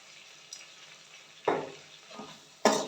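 Chilli, turmeric and coriander powders sauté in hot oil in a pan for a fish curry, with soft sizzling and two or three louder bursts of frying as the spices are stirred.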